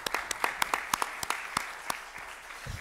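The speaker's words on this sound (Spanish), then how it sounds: "Sí, podéis aplaudir, claro" An audience applauds at the opening of a training programme for non-university teaching staff with a few sharp, fairly quiet hand claps standing out against softer clapping that fades toward the end.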